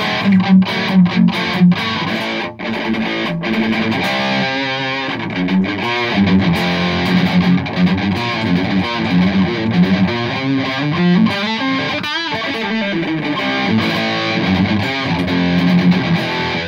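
A Stratocaster electric guitar played through an old DOD distortion pedal, loud saturated heavy-rock riffs with sustained chords and rhythmic palm-muted bursts, playing alone without talk.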